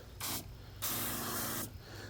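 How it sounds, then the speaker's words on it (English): A garden sprayer mists weeds in an open field, in two separate bursts: a short hiss followed by a longer, steady spray close to the microphone, with quiet gaps between them. "So here we're going to spray other areas out."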